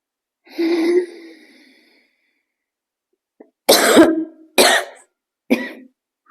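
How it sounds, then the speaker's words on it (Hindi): A voice hum fades out, then after a pause come three sharp, forceful coughs, close and loud, each separated by a short gap. "एक बार अब मैं आपको करके दिखाती हूँ कैसे वो करेंगे तो खांसी होगा"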